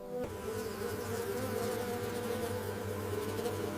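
Bee-mimicking flies, the kind that emerge from decaying matter, buzz in a sustained close drone after a brief onset, a thick steady hum with no speech.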